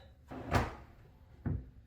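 A wooden drawer in a miter saw station is worked back and forth onto its slides, giving two dull sliding knocks a second apart, the first louder, close by and with no talk.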